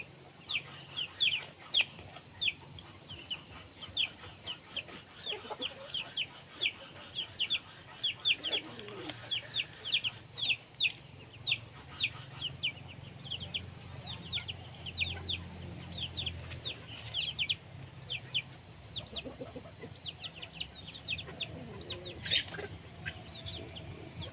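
Many sick chickens, drooling and with cloudy eyes, cluck continuously around the listener, a busy stream of short repeated calls over a low background rumble, with no talking.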